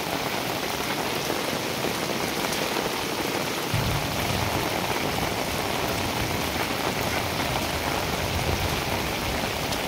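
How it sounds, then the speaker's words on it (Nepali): Heavy rain pours steadily during a flood near a river, a dense, loud, unbroken hiss that fills the whole stretch. "पानी पर्नु थाल्यो फेरि ठुलो।"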